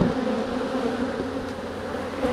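Honeybees swarm in the lower chamber of a hive, a steady, dense buzzing drone heard close up, fairly quiet and unbroken, with no voices.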